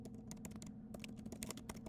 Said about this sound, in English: I'm going to go back to typing here because we got some words.